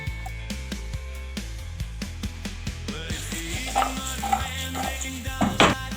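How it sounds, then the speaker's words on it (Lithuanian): Carrots fry in oil in a pan, a soft sizzle mostly buried under rhythmic background music, with a few clinks and stirring sounds near the end. "Susidedam mūsų morkas."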